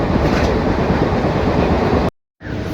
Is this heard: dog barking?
no